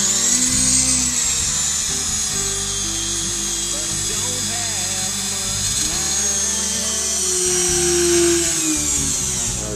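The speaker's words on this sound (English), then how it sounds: "And I'm just going to drill those 6 holes." A Dremel rotary tool drills holes into a wooden guitar neck, a steady high-pitched whine running throughout, loud and close, with faint shifts in pitch as it bites.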